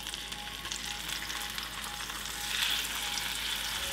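Redfish fries in butter in a cast iron skillet, giving a dense, steady sizzle that swells a little louder partway through, with no talking.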